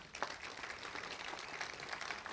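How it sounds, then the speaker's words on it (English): Audience applause fills a hall at a college athletic hall of fame induction ceremony, a steady wash of clapping with no talk over it throughout. "Let's have another round of applause."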